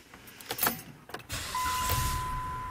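A car with a crankshaft position sensor fault cranks in a few uneven bursts, then the engine catches and settles into a steady, slightly rough idle with a thin whine, close up and with no talking.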